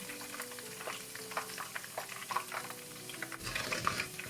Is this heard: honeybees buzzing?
no